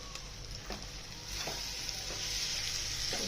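Broccoli bhaji is stirred in a pan as it steams over a low to medium flame, with a faint, steady sizzle and soft, intermittent scraping strokes.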